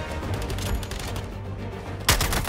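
Gunfire in the Suicide Squad video game, a busy stretch of rapid, overlapping shots and bursts with one louder, heavy blast near the end.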